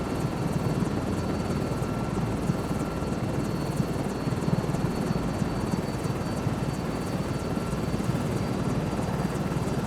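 A helicopter holds a steady hover in Microsoft Flight Simulator 2024, its rotor chop and turbine whine forming a loud, continuous drone with a fast, even pulse throughout and no voices.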